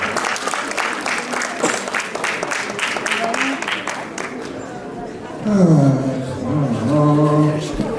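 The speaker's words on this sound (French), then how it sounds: "Vous pouvez aussi l'applaudir très fort." Audience applause at a cat show in Gien, France, rhythmic clapping for a departing cat, then fading as a voice speaks over a loudspeaker and a cat's meow-like cry rises near the end.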